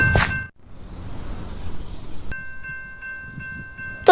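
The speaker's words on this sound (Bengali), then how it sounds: "ওই যে দেখো বন্ধু আরেকটা ট্রেন আসতেছে বন্ধু" Minecraft train rumbling past on rails, first a brief loud burst, then a sustained hum, and finally steady clacking tones with a loud burst at the end, no one speaking.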